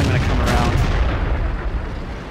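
A Panzer VII Löwe tank's main gun fires in World of Tanks, one loud booming blast that rolls off into a fading rumble.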